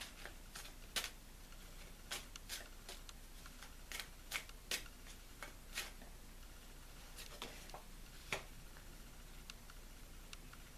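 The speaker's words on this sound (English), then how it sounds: "so taking the major arcana pile, going to shuffle." Soft riffling and scattered crisp snaps of tarot cards being shuffled, close but quiet, with irregular taps over a hushed background.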